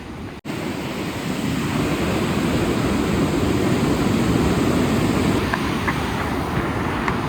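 Hot spring water flows steadily at Manikaran in Himachal Pradesh, a constant loud rush like a small waterfall that carries on without a break and covers almost everything else.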